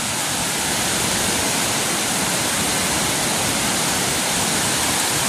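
Floodwater rushes past in a loud, steady roar of broad churning noise, carrying debris such as coconuts and banana trunks, with no break across the whole stretch.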